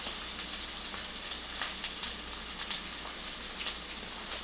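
Ginger garlic paste with turmeric fries in a pan, making a continuous close sizzle with scattered sharper pops rising above the steady hiss.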